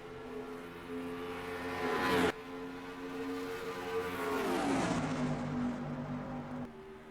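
Engine drone of a pack of stock cars at Darlington Raceway in the NR2003 racing game, a loud sustained multi-car roar with shifting pitches, a brief dip near the middle, then rising and falling again.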